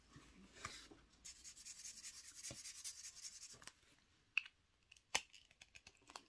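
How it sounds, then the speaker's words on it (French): A package being unboxed by hand: a sustained rustling, scraping rub of packaging material followed by a few sharp crinkles and snaps, close and fairly quiet, with no talking. "Vous assistez en même temps au son du déballage"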